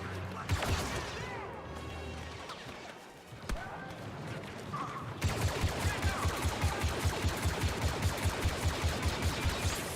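Gunfire from a firefight in the solo campaign of the video game Star Wars Battlefront II: scattered shots and crashes, then a steady rapid stream of automatic fire with an even pulsing rhythm.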